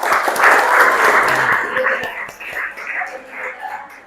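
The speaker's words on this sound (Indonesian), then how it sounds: "Tepuk tangan untuk semua kita dulu." A school class applauds in a room, with a burst of steady clapping that swells early and then thins into scattered claps, while voices murmur alongside.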